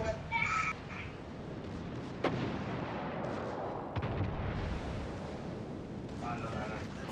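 Warship main guns firing in World of Warships: Legends, a sharp heavy blast followed by rolling low rumble and wind-like roar, with another shot later over continuous battle noise and game chatter.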